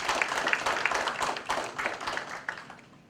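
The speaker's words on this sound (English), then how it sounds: "I think we can clap for that again." An audience at a plastic recycling project event in Saint Lucia applauds with a moderate, uneven patter of clapping that thins out toward the end.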